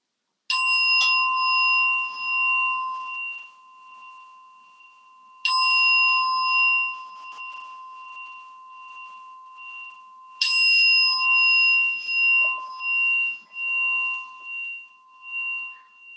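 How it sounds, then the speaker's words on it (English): A meditation bell struck three times at even intervals, each strike ringing out clear and loud with a bright tone, then slowly fading into quiet before the next, with no talking. "allowing the sound of the bell to be primary in your awareness"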